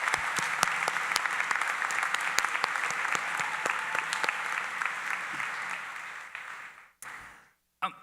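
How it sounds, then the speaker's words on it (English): Students applaud their parents at a university gathering for incoming freshmen, a dense crowd of clapping that holds steady for several seconds, then thins out and fades, ending in a couple of scattered claps. "if you wouldn't mind just clapping for your parents and congratulating them"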